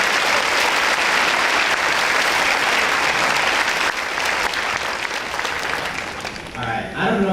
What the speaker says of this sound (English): Can we give one round of applause for not only the class of 2025, but for all the staff members